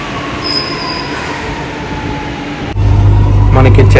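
Chennai Metro train running beside the station, a steady whine with a thin tonal squeal that swells into a loud, close rumble partway through.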